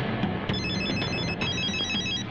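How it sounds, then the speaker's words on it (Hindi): A telephone rings steadily with a bright electronic trill, close and fairly loud, continuing throughout with no voices. "रिंग रिंग बजी तो थी।"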